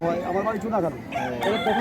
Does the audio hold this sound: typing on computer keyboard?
no